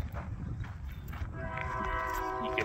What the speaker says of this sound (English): we got another train on the way.